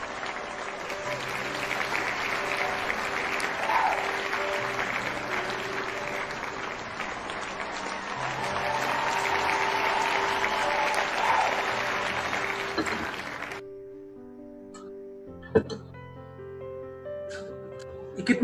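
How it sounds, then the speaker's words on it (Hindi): An audience claps loudly and steadily for more than ten seconds, a dense wash of applause under a backing music track, before it cuts off into quieter music with a few thumps. "ये जबरदस्त ताली, जबरदस्त ताली।"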